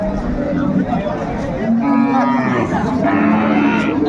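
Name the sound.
cow mooing at a cattle market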